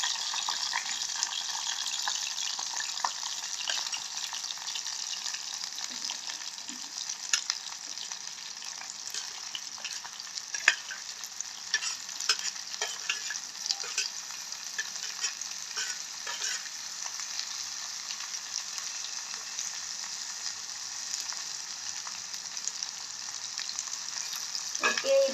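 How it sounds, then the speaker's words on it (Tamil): Chopped onions sizzle and fry in hot oil in a pan while being stirred, a steady bright crackle running throughout with occasional scrapes of the stirring utensil, close and alone with no talk, for coconut roti and seeni sambol. "நாங்கள் வந்து எண்ணெயில் வந்து நல்லா பிரட்டி விடுவோம் எல்லா வெங்காயத்தையும்"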